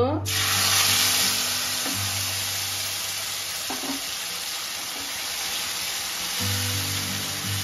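A ground spice paste of poppy seeds, green chilli, ginger, melon seeds and cashew hits hot oil with a loud burst of sizzling that settles into a steady, hissing fry, with a couple of stirring scrapes.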